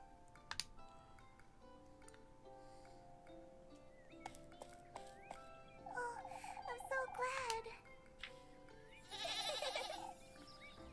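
A goat from Little Goody Two Shoes bleats in a few short wavering calls, with a longer, brighter bleat near the end, set over faint game ambience with scattered ticks and clicks.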